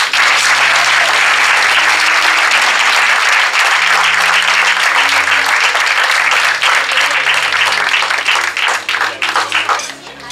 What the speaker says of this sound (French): Une bonne main d'applaudissements pour tous nos candidats.